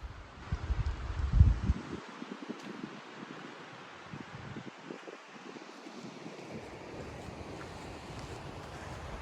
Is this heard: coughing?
no